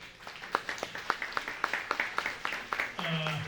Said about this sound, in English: Again, a nice round of applause